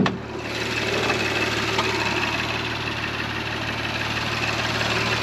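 A 2019 Porsche Macan S with a 3-litre V6 turbo engine idles in the open engine bay, giving a steady, even hum with a low droning tone and no voices over it.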